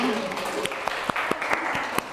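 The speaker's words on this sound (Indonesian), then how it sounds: "Tepuk tangan untuk kita semua." Students in a university classroom lesson clap together in a loose burst of applause, scattered sharp claps over a steady crowd wash of moderate loudness, with a voice faintly mixed in at the start.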